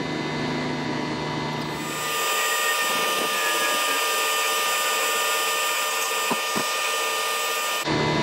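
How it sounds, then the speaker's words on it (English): A barrel brush scrubs the inside of a filthy, oxidized car wheel rim, giving a steady close broadband whirring and swishing that runs nearly the whole time, with a couple of brief knocks near the end. "now I'm going to go in with my barrel blade and get the inside of the rim"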